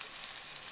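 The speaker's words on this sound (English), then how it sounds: "So go ahead and gently add your bananas." Bananas frying in hot oil while making mole poblano, giving a steady, soft broadband sizzle throughout with no talking.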